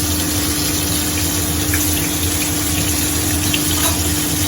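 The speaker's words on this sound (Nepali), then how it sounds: "पानी उम्लिँदैछ" A pot of water boiling over a wood fire gives a constant, dense bubbling rush that stays even and close throughout.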